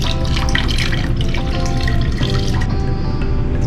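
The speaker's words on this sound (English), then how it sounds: "When you pour in the box, you want to make a zigzag motion" Paper pulp is poured slowly from a blender into a deckle box, making a continuous close watery pour and splash that stays steady throughout, with no talking.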